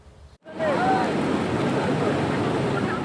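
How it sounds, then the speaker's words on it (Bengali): Rough sea waves driven by stormy wind crash one after another on the shore, a loud continuous roar of surf that starts abruptly after a brief quiet moment. "উত্তাল সমুদ্র, একের পর এক ঢেউ আছড়ে পড়ছে তীরে"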